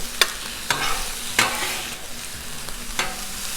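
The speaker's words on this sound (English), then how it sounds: "Get this stuff fried up nice and good." Finely chopped vegetables for a Spanish omelette frying in oil on a Blackstone flat-top griddle, a steady close sizzle punctuated by four or five sharp spatula scrapes and taps, no talking.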